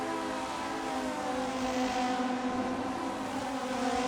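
Audi 90 Quattro race car engines in a racing video game at Watkins Glen roar in a steady, sustained drone, loud and close with a constant high pitch and no breaks.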